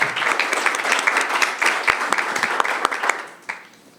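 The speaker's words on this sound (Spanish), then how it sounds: "Un aplauso para la doctora Bárbara, por favor." Audience applause at the closing of a parliamentary research congress, a dense steady wash of many hands clapping that thins and fades out toward the end.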